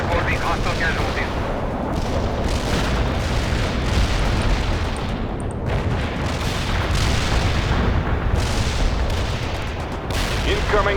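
An artillery barrage in the video game World in Conflict pounds continuously, dense overlapping booms and blasts rolling without pause, loud and close, with voices talking over the bombardment.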